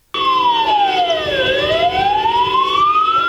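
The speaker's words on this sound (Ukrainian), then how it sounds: "тоскне завивання сирени" A loud wailing siren rises and falls steadily during a funeral procession, sweeping down then back up in pitch, continuous and close with traffic rumble beneath.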